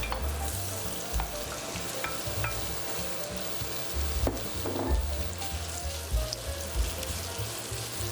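Beef sizzles and fries with crushed garlic in a hot oiled wok over high heat, a steady loud crackle with occasional stirring scrapes and no talk.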